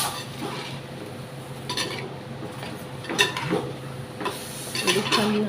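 Chicken pieces stirred with salt and turmeric in a pan for a Mangalore-style chicken sukka, with soft scraping and clinking of a spoon against the metal and a faint sizzle underneath, rising in a few louder strokes.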